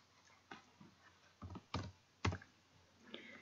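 Typing on a computer keyboard in a quiet room produces a handful of sparse, close clicks and key taps spaced irregularly over a few seconds.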